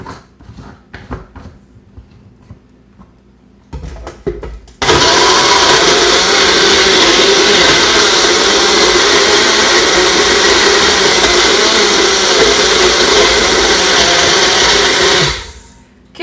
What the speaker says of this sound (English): he loves the blender noise.